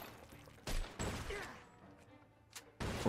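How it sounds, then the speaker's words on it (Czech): Shotgun blasts in the video game Mafia II, several sharp loud bangs at irregular intervals, each with a short decay, separated by quieter stretches of ambient game noise. "Odkud tady střílí tou brokou?"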